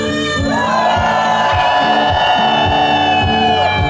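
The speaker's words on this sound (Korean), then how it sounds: "다 같이 함성 한번 설해봅시다 소리 질러" A crowd at an outdoor peace rally concert in Soseong-ri cheers and shouts loudly for several seconds, whoops and yells rising over a sustained tonal backing.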